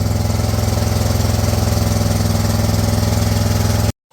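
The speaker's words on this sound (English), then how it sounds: "So I'm outside driving the tractor around, cutting grass." A Husqvarna riding mower tractor engine runs loud and close with a steady, rapid pulsing chug, then cuts off abruptly into silence at the end.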